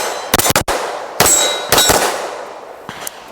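Shots from a Sig P211 GTO compensated pistol ring out sharp and loud, a quick cluster followed by two spaced reports and a fainter final one, each with a brief metallic ring.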